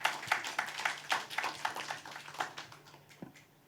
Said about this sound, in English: let's give a warm round of applause to Derong Shi